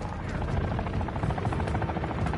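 A heavy chopper in a video game flies steadily nearby, its continuous rotor thump and engine buzz loud and unbroken throughout.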